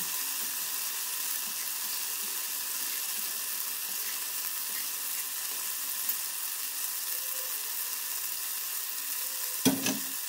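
Pounded paddy rice being stirred into a hot pan during festival cooking, giving a steady, even sizzle with faint scraping throughout and one sharp clatter near the end.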